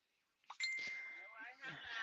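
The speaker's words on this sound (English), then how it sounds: "This phone's going off." A phone notification dings once, a bright sustained ring that lingers with a clear tone, heard in a truck cab before a voice starts talking over it.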